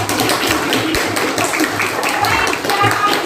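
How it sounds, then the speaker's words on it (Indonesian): Classroom applause for a student group after their presentation, a small group clapping in scattered, uneven bursts at close range, fairly loud and unaccompanied. "Oke, tepuk tangan untuk kelompok."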